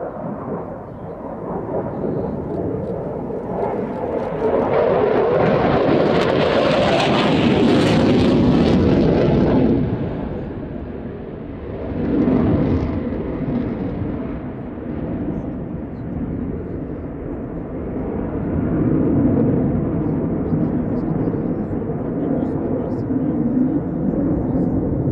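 An RAF 29 Squadron fighter jet from RAF Coningsby displays at the Midlands Air Festival air show. Its loud, rumbling roar swells to a peak, eases, then surges again in repeated passes, with an announcer's voice probably underneath.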